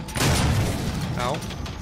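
A grenade blast in the DOOM video game, a deep booming low rumble that swells and holds for about a second before fading, heard up close with in-game effects.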